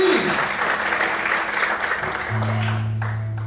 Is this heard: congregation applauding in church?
yes